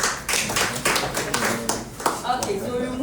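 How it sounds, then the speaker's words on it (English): A group at a hospital training session in Nsawam claps for themselves: a short burst of scattered hand claps mixed with overlapping voices and chatter in the room. "let's clap for ourselves."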